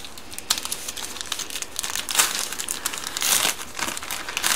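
An AliExpress parcel holding a keyboard-cleaning slime is unwrapped, with close, continuous crinkling and rustling of plastic wrapping and occasional sharper tearing bursts, no voices.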